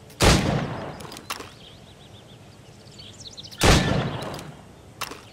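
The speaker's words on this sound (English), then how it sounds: "Go on. Shoot these targets." Two sharp gunshots ring out a few seconds apart at a target range in Assassin's Creed Rogue, each followed by a short echoing tail and faint mechanical clicks between them.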